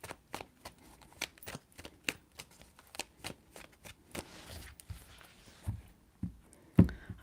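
A deck of tarot cards is shuffled close by in a quiet indoor space, with many quick, soft flicks and snaps at an irregular pace and a heavier knock near the end.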